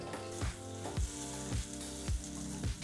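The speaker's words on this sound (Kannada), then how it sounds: "ಈ ರೀತಿ ಎಣ್ಣೆನಲ್ಲೇ ಚೆನ್ನಾಗಿ ಹುರ್ಕೊಳ್ತಾ ಇರ್ತಕ್ಕಂಥದ್ದು" Drumstick pieces fry in oil in a pan over a medium flame, a steady close sizzle broken by regular scraping stirs about every half second.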